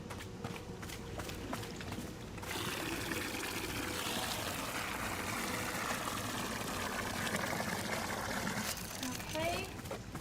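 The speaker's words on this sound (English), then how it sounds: "I just kind of want to water these until they're done." Water pouring onto plants in Wanderstop, a steady splashing trickle that starts after a couple of seconds of footsteps and keeps going, moderately loud, over soft background ambience.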